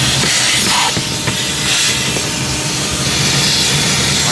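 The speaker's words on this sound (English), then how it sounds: "I'm just going to go up inside the HVAC and try to suck out as much debris as I can." Shop vacuum sucking debris from inside a car's HVAC housing while the blower motor is out, a steady loud airy roar and hiss lasting a few seconds with no talk.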